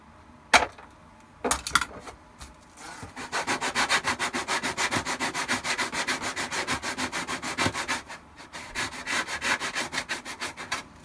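Sponge sanding of Shadow Trooper costume armor parts: after a couple of isolated knocks, a steady run of quick, rhythmic back-and-forth rubbing strokes, close and fairly loud, continues with no one talking.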